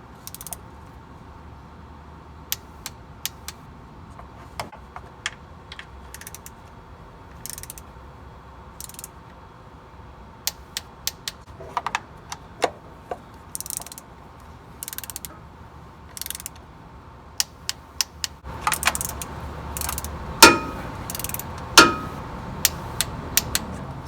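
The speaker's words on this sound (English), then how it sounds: "I'm going to go ahead and torque them now with my inch-pound wrench to 89 inch-pounds." Oil pan bolts on a Ford 2.7 EcoBoost are tightened with an inch-pound torque wrench, giving a series of sharp ratcheting clicks in short bursts, close and fairly quiet over a faint background hum, growing busier toward the end.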